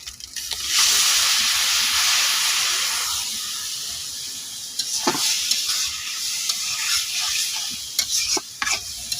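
Spice masala fries in a hot pan with a steady loud sizzle and hiss, while a spoon scrapes and stirs it in occasional sharp strokes, up close with no voices.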